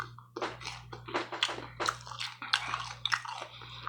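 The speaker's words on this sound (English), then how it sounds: "Tater tots are so crunchy." Close, crunchy chewing of tater tots with repeated crisp bites and munching in a steady rhythm, no talking, over a faint low hum.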